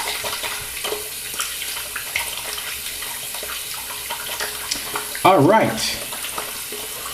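Tap water runs steadily while hands are rinsed after applying shave soap, a continuous splashing hiss with small bumps and a louder surge near the end, while someone speaks briefly.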